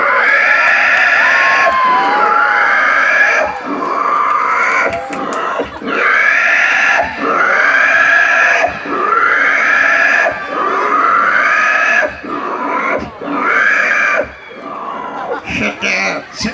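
A voice imitates a dying pig's anguished crying, with repeated loud, wavering squeals and wails in long bursts broken by brief gaps, close to the microphone.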